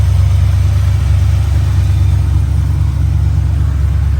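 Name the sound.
1978 Chevrolet K5 Blazer engine running with Edelbrock carburetor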